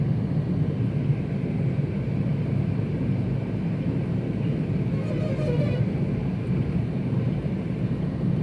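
A car in fourth gear during a driving lesson gives a steady, loud engine and road rumble inside the cabin, with wind noise, unbroken from start to finish.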